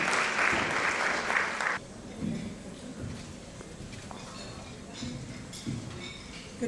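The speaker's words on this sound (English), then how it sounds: "Round of applause." Applause at a Women of Faith dinner celebrating friendships, a dense burst of clapping that cuts off abruptly after about two seconds, followed by quieter room noise, shuffling and faint murmur.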